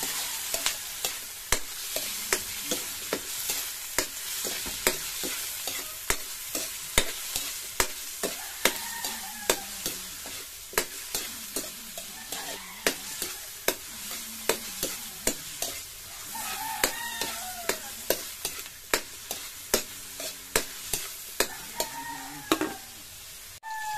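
Lots of chopped tomatoes stirred in a hot pan, with a steady sizzle under repeated scraping strokes of a utensil at a regular rhythm, close by and without speech.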